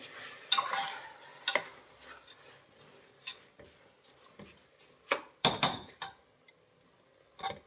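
Scraping, clinking stirs of a spoon against a pan of soaked rice for methi pulao, irregular and close, with several sharper knocks between softer sweeps.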